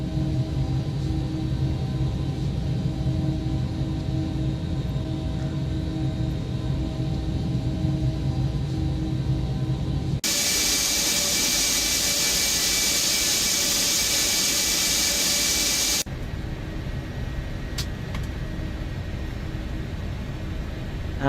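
Gulfstream 550 jet engines spooling up for takeoff in the X-Plane 12 flight simulator, a loud continuous roar and whine that shifts in tone partway through, with no talking.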